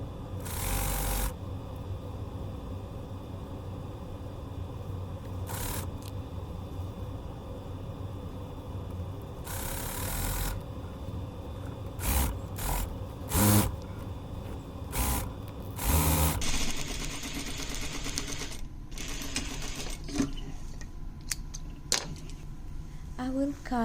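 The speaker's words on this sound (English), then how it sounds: "Now we're ready to do the top stitch. Don't forget to do the back stitch to make sure it stays in place." Sewing machine top stitching and back stitching a shirt side seam: several bursts of rapid mechanical stitching, stopping and starting, under a speaking voice and low background hum.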